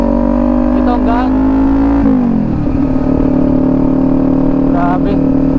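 Kawasaki Ninja 400 two-cylinder motorcycle engine, a steady loud idle hum that dips as the revs drop, close by, with someone talking over it.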